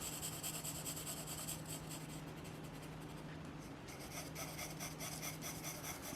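A pencil shades a brick drawing on paper in a steady, continuous scratchy rubbing, close and uninterrupted, with no voices.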